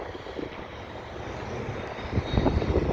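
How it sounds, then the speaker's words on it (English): An airplane takes off from the New Orleans airport near the Loyola Drive off-ramp in Kenner, its engine roar heard from a distance and swelling louder toward the end amid wind noise. "I guess I could just say there's a plane taking off."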